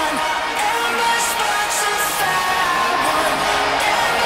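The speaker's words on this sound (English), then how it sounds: "this is the one this sold-out crowd came to see." Sustained crowd noise and cheering from a sold-out arena audience at a women's wrestling match in WWE 2K19, a dense continuous roar with occasional whoops, steady and loud throughout.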